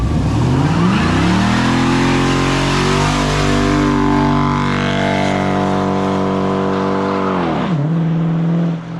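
A 2014 Dodge Charger R/T with all-wheel drive revs loudly in the snow, its engine note climbing and holding high through a long wheelspin before dropping sharply near the end, close and continuous.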